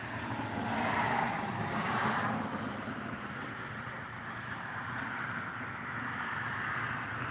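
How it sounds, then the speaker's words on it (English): Cars passing by outside a house, a broad steady traffic rush that swells and fades as vehicles go past at a distance, with no talking. "now you're just basically watching cars go past my house"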